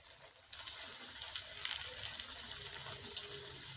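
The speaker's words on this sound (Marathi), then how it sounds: "तेल चांगलं तापलं आहे म्हणून मी हे वडे त्याच्यामध्ये सोडत आहे" Methi vada fritters slipped into hot oil set off a steady, bright sizzle that bursts in suddenly after a brief quiet moment and holds at an even level, with small crackling pops.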